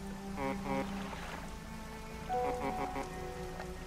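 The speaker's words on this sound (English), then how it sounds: "Yeah, so it's raining." Rain falling in the fishing horror video game DREDGE, a continuous patter on water and surfaces under tonal game music notes, steady and moderately quiet.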